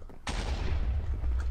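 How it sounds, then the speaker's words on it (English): Cannon fire in the Minecraft arcade game Hypixel Bombardment: a sudden loud blast that rolls into a sustained, rumbling roar of gunfire-like booms, with no talking. "Survive the cannon fire and don't get eaten by the squids."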